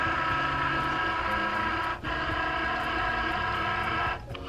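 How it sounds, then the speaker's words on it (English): A Cricut cutting machine draws in a cutting mat and aligns it, giving a steady loud mechanical whir with rolling motor tones and two brief dips in level. "the Cricut will make sure that everything is all aligned and ready to go"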